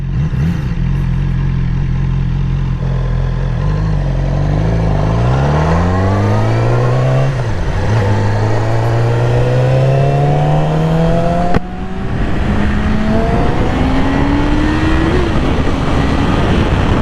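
A 2020 Yamaha R6 motorcycle engine revs up and down through the gears while riding, a loud, close whine that rises repeatedly in pitch, dips on a downshift, and climbs again under steady wind rush.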